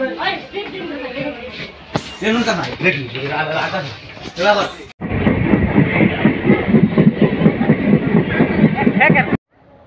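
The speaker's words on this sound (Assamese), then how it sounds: "এতিয়া আহি গ'লো ট্ৰেইনৰ ভিতৰত চাব পাৰে" A passenger train running from Samaguri to Guwahati in Assam carries people who talk loudly at first, then a steady rumble with rhythmic rattling fills the carriage before the sound cuts off.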